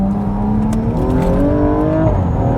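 Stage 2 BMW M135i engine revving hard in second gear with anti-lag engaged, a loud, close, continuous rising roar with a raspy exhaust note.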